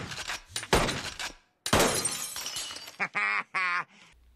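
In a scene from The Simpsons, a police chief smashes a piñata with a gun, giving loud cartoon crashing and breaking bursts, followed by several short honking, quack-like vocal sounds.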